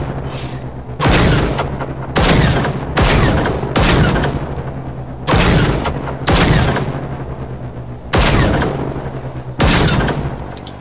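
Loud, booming gunshots ring out one at a time as a player shoots robots in the video game Generation Zero. About nine heavy shots fall at uneven intervals, each with a rumbling tail, and no one speaks.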